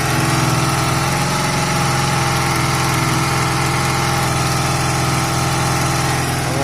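Honda CB250 cafe racer motorcycle engine running steadily at idle, a loud close continuous buzzing thrum with an even mechanical pulse and no pauses.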